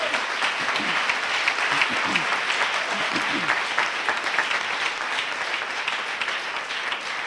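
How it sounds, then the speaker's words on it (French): Church congregation clapping during a French-language worship service, a steady moderate round of applause with a few voices calling out over it, fairly even throughout. "Ça mérite des acclamations."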